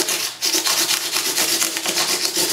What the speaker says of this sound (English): I'm going to take a small piece of 320 wet or dry sandpaper, using it dry. I'm going to basically polish all of the frets.